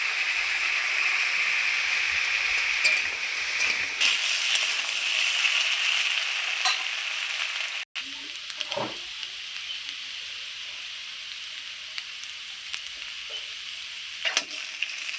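Elephant foot yam and potato pieces frying in oil, a steady close sizzle and hiss throughout, with a short cut midway and a few faint knocks of a utensil, no talking.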